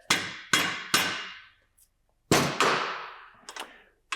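Hammer taps on a Driven captive axle block adjuster being seated on a Yamaha R7 sportbike: three sharp ringing strikes in quick succession, a pause, then two more hits and a couple of lighter taps, close and clear with no talk.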